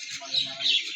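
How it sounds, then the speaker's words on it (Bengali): Common mynas chirp and chatter in the morning, a mix of bright calls from several nearby birds with a few faint lower tones beneath, brief and fairly close. "পাখির কিচিরমিচির দেখুন,"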